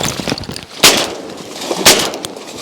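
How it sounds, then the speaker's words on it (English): Two loud shotgun blasts fired at mallard drakes during a windy public-land duck hunt in the Pacific Flyway, spaced about a second apart, each a sharp close crack with a brief outdoor tail over steady wind noise. "Oh, dude, nice shooting."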